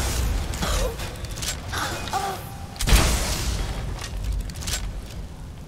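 An exploding-balls weapon going off in Skyrim: a mid-length boom bursts out about halfway through, set among creaking, clattering game sounds and a steady low background rumble.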